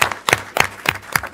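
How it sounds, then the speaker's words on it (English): A round of applause at a council meeting: a handful of sharp, separate claps at an uneven rhythm, fairly close and crisp with no voices. "I think that deserves a round of applause."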